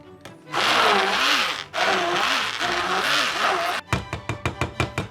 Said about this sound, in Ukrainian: І блендером передрібнюємо, щоб воно мало більш таку мастку консистенцію.